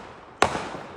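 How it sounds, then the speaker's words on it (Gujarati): A single firecracker bursts sharply on a road during Diwali celebrations in London, one loud bang with a short, rough decay and no other sound. "ફટાકડા ચાલુ થઈ ગયા છે રોડ ઉપરથી"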